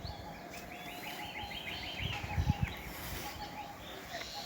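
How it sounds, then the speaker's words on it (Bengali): Various birds calling from trees along a tree-lined embankment road, faint, distant chirps and short twittering runs over a soft background hiss with a few low thumps. "আপনারা বিভিন্ন ধরনের পাখির আওয়াজ অবশ্যই শুনতে পাচ্ছেন।"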